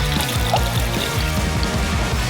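Water poured from a container onto sugar in a saucepan for caramel, a brief continuous splashing pour at close range, loud and uninterrupted, with no voices.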